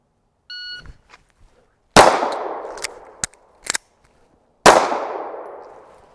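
A Sig Sauer P365XL pistol at a shooting range: a short electronic shot-timer beep, then two sharp, loud gunshots a few seconds apart with ringing decay, and some faint clicks and handling clatter in between.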